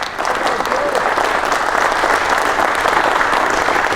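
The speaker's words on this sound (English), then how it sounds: "So let's give Joe a round of applause." Audience at a nuclear science museum talk on the molten-salt reactor experiment gives Joe a round of applause: dense, even clapping from many hands, steady and fairly loud throughout with no pauses.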